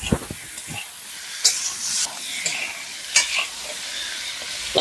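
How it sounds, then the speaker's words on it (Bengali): Cauliflower fries in oil in a pan, a continuous close sizzle broken by several bright stirring scrapes and spatula knocks, no voices present. "তোমার ফুলকপিটা প্রায় ভাজা হয়ে গেছে"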